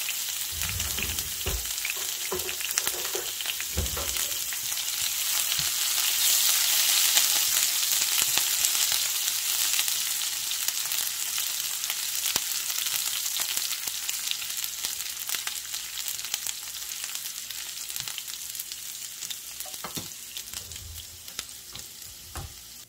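Ginger and chili fry in a pan for samosa filling, giving a continuous close sizzle and crackle with occasional stirring scrapes, steady throughout and free of talk.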